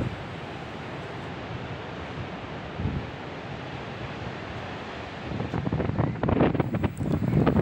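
Wind buffets the microphone over a steady wash of surf at Buyutan Beach in Pacitan, a wide white-sand shore, rising louder and gustier toward the end with no talk.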